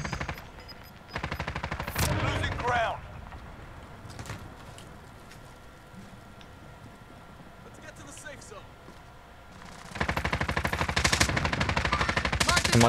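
Bursts of rapid automatic gunfire from other players during a video game shootout. Loud volleys open and close the stretch, with quieter, scattered shots and background noise between them.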